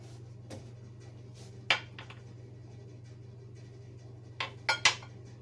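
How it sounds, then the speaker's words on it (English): Weights lifted from a jar of strawberry vinegar make a few sharp glass-on-glass clinks, one single tap and then a quick cluster of three near the end, all over a low steady room hum. "I'm going to remove my weights."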